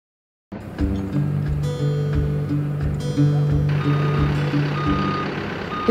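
A forklift unloading materials from a truck in cold northern Michigan sounds steady, repeating reversing beeps over a low idling engine rumble, loud and close, with the beeps continuing throughout after a sudden start.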